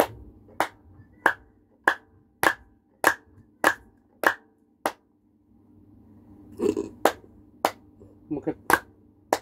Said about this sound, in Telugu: ఇక్కడ ఒక క్లాప్, వేరే క్లాప్ వాయిస్తాము